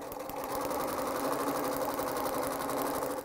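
An old household sewing machine stitches fabric, likely heavy sailcloth, with a fast, even mechanical whir and rhythmic needle ticking, close and continuous throughout.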